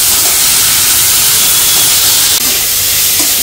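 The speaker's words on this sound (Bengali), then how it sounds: "এবার উস্তাগুলো বেজে নেই" Bitter gourd and spices frying in a pan, a loud steady sizzling hiss close up that continues unbroken with no talk.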